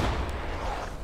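A Civil War musket volley fires on command in War of Rights, one heavy, rumbling blast opening the moment and then decaying into a rough, echoing tail.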